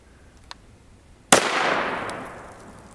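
A single sharp rifle crack from a .22 Magnum firing 40gr FMJ Federal ammunition rings out close and loud, followed by a fading echo, with a faint click shortly before it.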